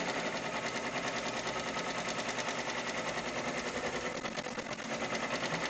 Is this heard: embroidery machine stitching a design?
yes